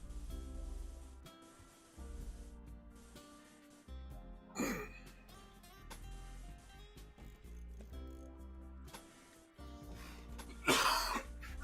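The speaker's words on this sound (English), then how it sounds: "Sorry about the coughing." Two bursts of coughing from a gamer during a Rimworld stream, a short one mid-clip and a louder one near the end, over quiet background music.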